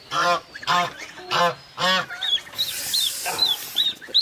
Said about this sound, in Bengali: এই হলো আমার রাজহাঁসের বাচ্চা